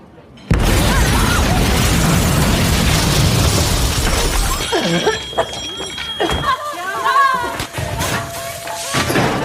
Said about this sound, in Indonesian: sebuah bom bunuh diri meledak dan nyaris menewaskan mereka